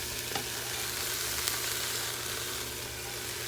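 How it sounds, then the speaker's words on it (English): Green onions sauté in a hot pan for beef chili, giving off a dense, even hiss of sizzling that holds steady throughout, close and moderately loud, with a faint stir or tap here and there. "So you can saute them for good 5 to 7 minutes."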